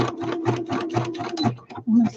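A sewing machine stitching fabric in a craft session runs in a steady rhythmic chatter of needle strokes, close and moderately loud, stopping briefly near the end while a person speaks over it.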